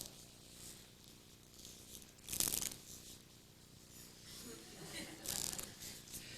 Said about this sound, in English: I'm going to ask you to watch me narrowly as I shuffle the cards